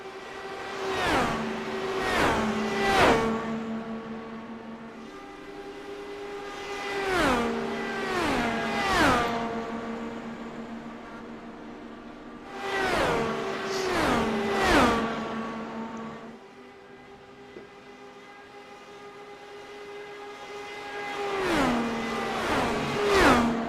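IndyCar race cars shaking down on the Las Vegas track pass in loud high-pitched bursts, engines revving and downshifting in clusters of two or three cars roughly every six seconds, each swelling then fading away with no talk.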